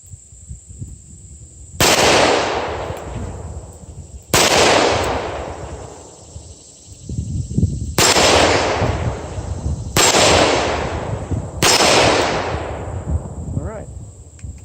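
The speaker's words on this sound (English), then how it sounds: "Fire a couple shots." Five loud, sharp reports from a .357 Magnum revolver, fired at uneven intervals of roughly two to four seconds, each crack close and followed by a short ringing decay over a faint steady hum.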